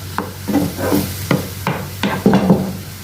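Onion and tomato sautéing in oil for a prawn thokku, with a spoon scraping and stirring through the pan in several distinct strokes over a low, steady sizzle, up close and without talk.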